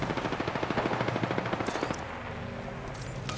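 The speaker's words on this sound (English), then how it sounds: "They spotted me. I'm taking shots." Rapid automatic gunfire in the battle royale game Apex Legends, a steady burst of close shots for about two seconds, then fading into lighter in-game effects with no talk.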